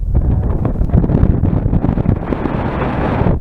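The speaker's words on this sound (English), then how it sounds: "So I'm facing away from the wind at the moment because it is quite breezy." Strong, gusty wind buffets the microphone on Codden Hill during slope soaring with a Volantex Phoenix 1600, a loud, rough roar that rises and falls continuously throughout, with no voices.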